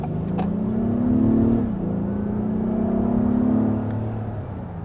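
A car engine hums and rises steadily in pitch as the vehicle accelerates, dips briefly with a gear change, then climbs again, heard from inside.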